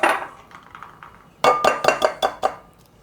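Two large eggs are whisked in a bowl for pumpkin pie filling, a fork clinking against the side in a quick run of six or seven sharp taps after a softer start.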